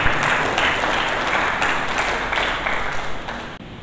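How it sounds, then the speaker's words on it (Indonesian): Congregation applauding in church, a dense sustained wash of clapping at moderate loudness that holds steady and tapers slightly near the end, no voices on top. "Mari kita berikan tepuk tangan yang meriah bagi Yesus"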